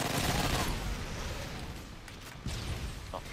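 Gunfire in Modern Warfare 3, a dense, continuous roar of shots and battle noise, loud at first, easing slightly, then swelling again with a fresh burst near the end.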